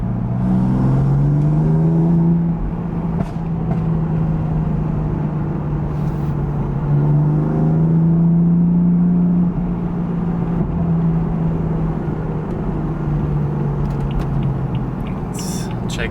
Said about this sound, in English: You can already hear the downshifts and the backfire.